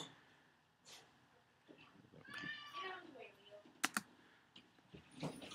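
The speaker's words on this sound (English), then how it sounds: "Well, I've got cats and dogs fighting together here." Cat meows and yowls mixed with dog noises from cats and dogs fighting in the Commodore 64 game Legacy of the Ancients, rising in a brief cluster of wavering cries, with sharp clicks and a couple of loud bursts near the end.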